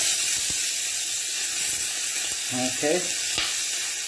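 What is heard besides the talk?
cut vegetables sizzling in a hot wok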